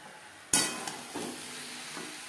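Peas and fried potatoes being stirred in a pan over high-to-medium flame: a sharp clatter starts the steady sizzle, followed by a few scraping stirs, no talking.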